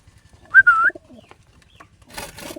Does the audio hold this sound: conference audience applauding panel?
no